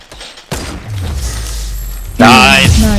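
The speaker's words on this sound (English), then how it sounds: "He's shooting at me right now." Gunfire from an enemy player in a Fortnite Battle Royale match: loud, sudden bangs and thuds burst in close, surge again near the end, and overlap with excited voices and game sounds.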